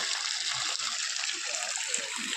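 Borewell water gushes steadily on farmland near Anumantharayan Kottai, Dindigul district, in a continuous hiss, like a strong flow pouring from a pipe, with a faint voice underneath.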